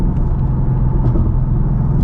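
A Ford Mustang GT S650 on an early-morning drive, its engine giving a steady heavy rumbling drone heard from inside the car, loud and continuous throughout.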